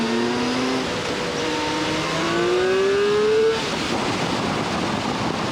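A 2022 BMW K1600 GTL motorcycle pulls hard through a gear, its engine note climbing steadily in pitch for a few seconds before easing off into road and wind noise.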